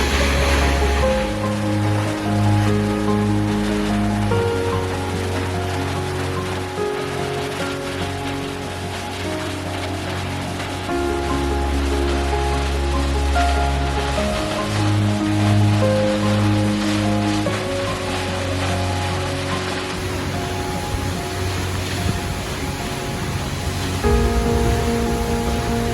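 A waterfall in Twin Falls rushes as a constant, heavy broadband roar, heard close up from just behind the falling water, steady and loud for the whole stretch with no talking.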